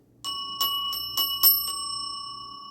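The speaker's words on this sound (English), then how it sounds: "Let's go ahead and ring the bell on that." A small bell rung several times in quick succession, bright metallic dings leaving a lingering ring as it fades.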